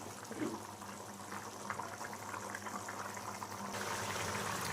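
Gentle, continuous bubbling of mutton curry simmering in a pan, soft and close, with faint crackles throughout.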